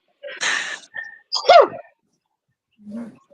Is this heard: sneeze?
yes